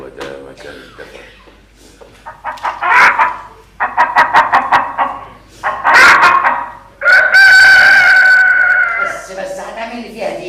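A man imitates a rooster crowing, with choppy throaty syllables building into a long, loud, drawn-out crow close to the listener, and bits of talk mixed in.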